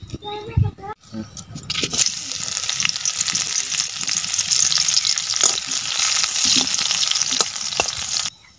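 Oil sizzles and fries steadily in a pan while a dried fish curry is cooked at home, a loud continuous hiss with stirring, preceded by brief speech.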